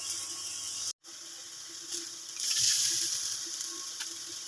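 Potato pancakes fry in a little oil over a medium to low flame, giving a steady soft sizzle with a brief gap and a louder crackling swell toward the middle.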